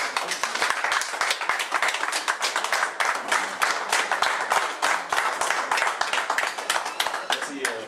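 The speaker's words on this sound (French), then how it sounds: "il peut se lever pour l'applaudir" Audience at a Kinshasa university law association gathering claps to welcome Freddy, a dense, steady round of applause lasting throughout, loud and close with many hands.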